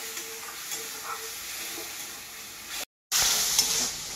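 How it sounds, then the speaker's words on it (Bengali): A spice mix with five-spice fries in a pan for a rohu fish dish, a soft steady sizzle with light stirring that cuts out briefly, then returns louder and hissier. "এবার আমি ভাজবো কিছুক্ষণ।"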